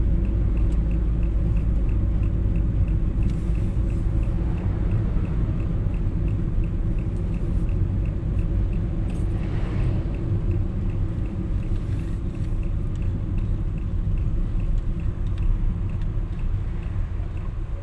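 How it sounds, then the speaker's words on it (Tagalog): Steady low road rumble from inside a car in traffic on the road from Lemery to Lipa City, Batangas, a continuous heavy drone with faint engine tone and no talk. "Traffic po."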